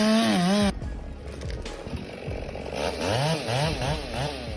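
A chainsaw cuts into a tree, running loud and close with a revving whine that drops as the chain bites into the wood. The engine then rises and falls in repeated surges of throttle.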